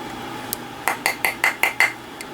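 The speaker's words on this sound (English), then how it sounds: "It's not marring it because we're using a nylon hammer" A nylon hammer strikes jewelry wire while it is shaped into wire-wrapped hoop earrings, giving about seven sharp, bright taps in a quick, fairly even rhythm after one faint early tap, close and clear with no talking.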